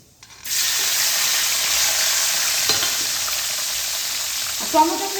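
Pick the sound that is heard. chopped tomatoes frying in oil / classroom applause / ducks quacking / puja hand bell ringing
chopped tomatoes frying in oil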